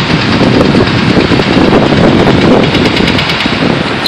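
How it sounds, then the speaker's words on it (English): Loud, constant wind buffets the microphone outside Taipei Arena, a dense roaring rush with no talking. "It's real windy too."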